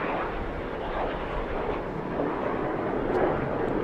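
An L-29 jet at a national championship air race taxis off the runway after landing, a steady broad jet roar heard from a distance with no break and no voices over it.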